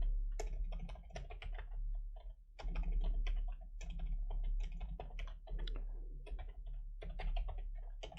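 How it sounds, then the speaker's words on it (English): Fingers typing on a computer keyboard in quick, uneven bursts of close clicks with brief pauses between words, over a steady low hum. "So let's type in here."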